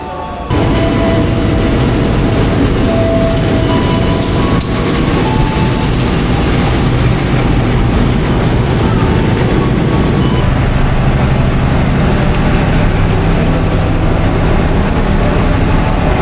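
A train running, heard from inside the very last carriage: a loud, continuous rumble and rattle of the wheels and car body that holds steady throughout, with a brief higher squeal partway through.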